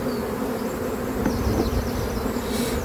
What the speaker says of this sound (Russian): Пчела, кстати, спокойная, хорошая